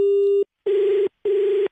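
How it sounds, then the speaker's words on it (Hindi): A dropping phone call sends out three short, evenly spaced busy-tone beeps over a handset line, loud and close, with no voices. "अबे फोन कट जा रहा है"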